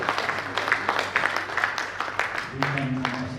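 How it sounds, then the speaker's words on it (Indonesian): Applause from an audience in a hall at a Ph.D. ceremony, steady, moderately loud clapping throughout, with a low hum entering near the end. "Kita harus berikan tepuk tangan."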